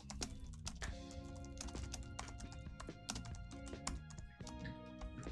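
Rapid, steady clicking of keys being typed on a keyboard, quiet, layered over soft background music.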